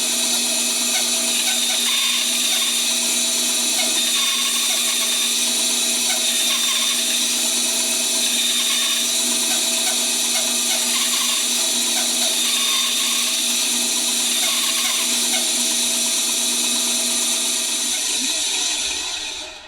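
A 10- or 14-inch band saw runs steadily while making relief cuts in wood, a loud continuous whine with a fixed tonal hum and faint cutting variations, close and without speech, then stopping at the end.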